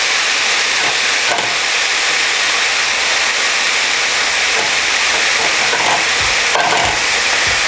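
Beef steak frying in a pan, a loud, dense, continuous sizzle and hiss with a few faint clinks and scrapes near the end, and no voices.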